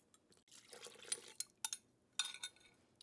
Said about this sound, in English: And then I put in the hot water and the gelatin